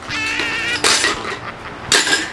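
Ceramic plates and dishes clatter loudly in a kitchen: two bright, ringing bursts of clinking and scraping, close by, with no voices heard.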